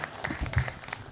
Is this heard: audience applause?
yes